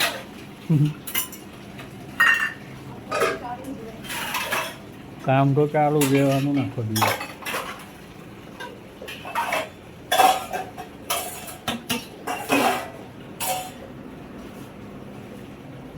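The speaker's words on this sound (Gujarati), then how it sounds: "વાસણ ધોવાય" Metal utensils washed and scrubbed, with repeated close clanks, scrapes and clinks scattered through the whole stretch and brief speech between them.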